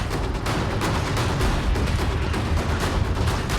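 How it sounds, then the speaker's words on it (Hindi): Blasting charges set off on purpose at a ski resort on Mount Elbrus to release an avalanche produce dense, continuous booming and rumbling with a steady roar throughout, loud and without voices. "रिजॉर्ट में जानबूझकर नियंत्रित विस्फोट करके"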